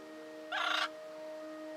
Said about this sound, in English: The real Gaga bird.